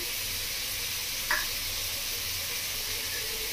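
Spices with salt and turmeric powder frying in hot oil in a pan for a pointed gourd and egg bhujia, a steady, even sizzle with one brief clink partway through.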